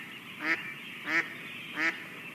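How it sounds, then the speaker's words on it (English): A mallard duck gives three evenly spaced, nasal quacks, each about a half second apart, moderately close over a quiet marsh background. "Mallards make a pretty general quacking sound like you would expect a duck to make."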